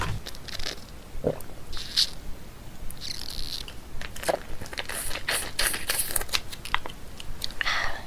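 Close, crisp crunching and crackly chewing of a health supplement in a quiet ASMR-style setting, irregular bites and soft mouth sounds spread across several seconds.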